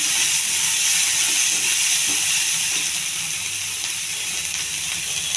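Onion fries in hot oil for a spinach tempering, giving a loud, constant, close hiss and sizzle throughout with no talk.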